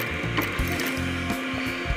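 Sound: sewing machine stitching a leather bag

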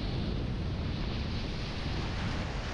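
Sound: ocean waves on Maui's North Shore

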